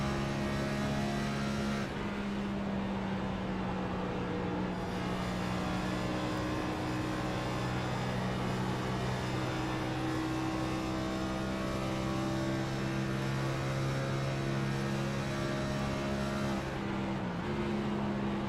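Race car engine in the video game Racers Elite at Kansas Speedway, a steady loud droning whine that holds pitch with brief dips as the gears shift down.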